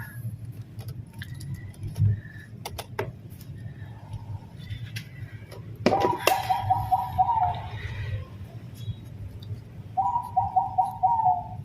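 Zebra dove (perkutut), a wild-caught local bird kept in a cage, cooing in two bursts of rhythmic, mellow notes, fairly near, against a steady low background hum with a few faint clicks and rustles.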